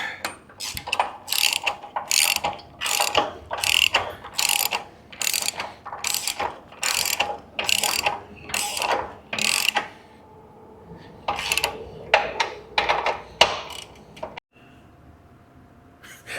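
A ratchet wrench snugs bolts on a vehicle frame during suspension work, a steady run of quick, loud clicking strokes in bursts, then a pause and a shorter second run.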